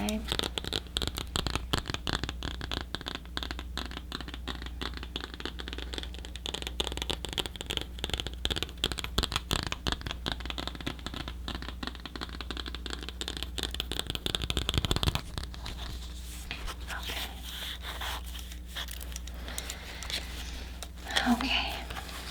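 A tarot deck is shuffled up close in fast, continuous papery riffles for an ASMR reading, then slows into softer handling and light taps, with a low steady hum underneath.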